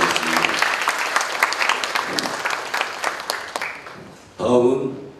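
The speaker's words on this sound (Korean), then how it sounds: "박수 한번 주시기 바라겠습니다" Applause from parents and guests at a university freshman parents' reception in a hall, a dense burst of clapping that fades out, followed by a short spoken voice.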